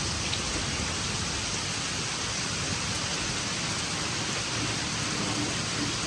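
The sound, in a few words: pouring rain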